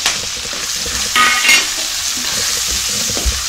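Spices, pepper, ginger, green chilli, asafoetida, curry leaves and cashews sautéing in a pan over medium flame, a continuous close sizzle with scraping stir strokes, no voices.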